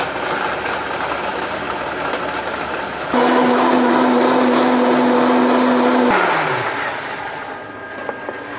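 A blender whirs through lettuce and ice cubes, its motor kicking in loudly partway through, holding a steady high whine for a few seconds, then winding down.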